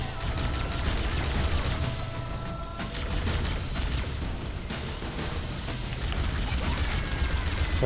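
Gunfire in Halo Combat Evolved, a continuous busy run of shots and bursts with a dense, crackling texture, loud and steady throughout with no talking.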